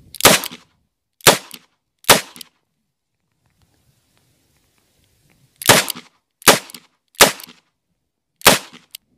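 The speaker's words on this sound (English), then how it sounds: "what we're going to do is try from the hip, just pointing the finger and shooting" A handgun fired from the hip at a 3-yard target. Three sharp, loud shots come about a second apart, then a silent pause of a few seconds, then four more evenly spaced shots. No voices are heard.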